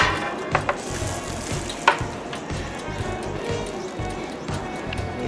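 Food sizzles hot in a compact oven pan, a dense close frying hiss with a few sharp pops and clicks, steady throughout and carrying on under a voice.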